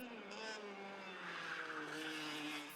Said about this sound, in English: The sound of screeching brakes and crossing the finish line first.